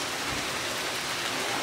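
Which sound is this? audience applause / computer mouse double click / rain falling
rain falling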